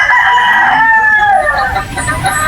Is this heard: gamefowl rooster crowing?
yes